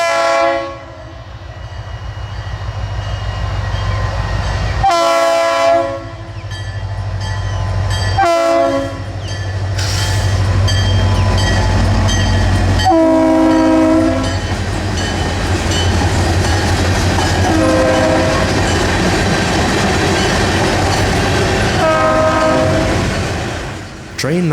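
A loud Florida East Coast Railway diesel freight train hauled by EMD locomotives rumbles close by, its horn sounding in several long blasts over a steady engine drone and rolling wheels.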